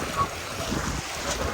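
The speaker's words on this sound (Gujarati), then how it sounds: "આ પાણી બહુ જબરદસ્ત પાણી આવે છે. એનું મોજું આવે ને એટલે આમ જો આખું પલાળી દે આપણું." Sea waves wash in at Gomti Ghat in Dwarka, a soft continuous rush of water with wind buffeting the microphone, fairly faint and without voices.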